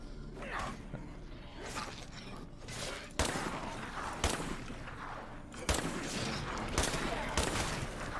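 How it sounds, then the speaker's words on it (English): Video game gunfire in State of Decay 2, sustained rapid shots and mechanical clatter layered over a dense game soundscape, with a few sharper louder reports standing out. "Continue to shoot, please, Jake."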